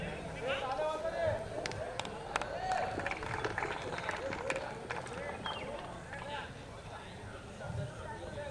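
Scattered hand claps from a village audience honouring a guest with a shawl and flower at a cricket match event, irregular and fairly light, mixed with crowd murmur and talking throughout.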